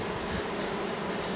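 A captured honeybee swarm buzzing at the entrance of a hive box, a dense close hum of many bees droning steadily without pause.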